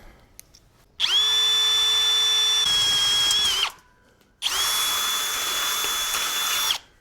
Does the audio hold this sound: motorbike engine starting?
no